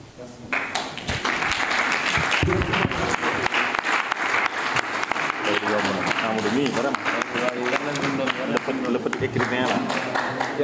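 Audience applause fills a novel dedication ceremony, sustained and dense nearly throughout, with voices talking and calling out over the clapping.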